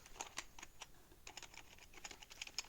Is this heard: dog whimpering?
no